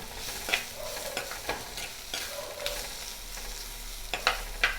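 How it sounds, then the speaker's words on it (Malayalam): Onion and curry leaves sautéing in a pan for a semi-ripe mango curry, a steady low sizzle broken by periodic spoon scrapes and taps as they are stirred, close and moderately quiet. "വേപ്പില ഇത് ചേർത്തിട്ട് ഒന്ന് ഇളക്കി കൊടുക്കുകയാണ് ചെറുതായിട്ടൊന്ന് വഴറ്റിയെടുക്കാം"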